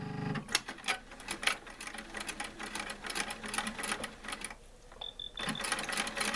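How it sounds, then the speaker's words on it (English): A sewing machine runs a straight stitch across the full diameter of a small handmade basket, giving a close, busy mechanical rattle with quick repeated clicks and a brief lull partway through. "We are going to stitch straight across the whole diameter."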